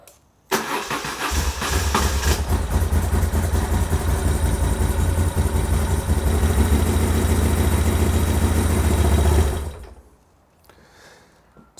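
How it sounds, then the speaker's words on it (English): A Moto Guzzi 750 Breva motorcycle engine cranks and fires up, then runs at a steady, loud, close idle for about nine seconds before cutting off into quiet. "now it's time to give the bike a bit of a test start just to see how it works"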